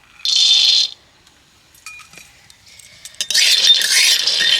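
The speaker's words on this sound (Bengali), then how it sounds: "চীনা বাদামটা এখন আমি ভেজে নেব" Raw peanuts poured into a dry wok for roasting: a short bright rattling spill, a few scattered clicks, then a longer dense clatter and patter of nuts against the metal, close and fairly loud with no talk.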